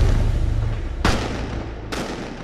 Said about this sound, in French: quand des coups de feu retentissent